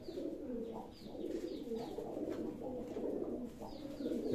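Pigeons coo softly and repeatedly in a pigeon loft, several birds overlapping in a steady low murmur with occasional faint chirps, fairly close and continuous throughout.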